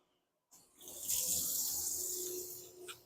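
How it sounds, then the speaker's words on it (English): Tap water runs into a sink in a Gulfstream Conquest RV, a steady close hissing splash that starts abruptly after a moment of silence and continues evenly, with no voices. "I'm going to start the flow of water in the sink."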